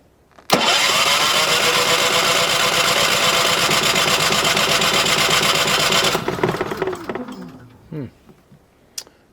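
A Champion 3400-watt dual fuel generator cranks loudly and continuously with its electric starter for several seconds without catching, then winds down into quiet with a few faint clicks.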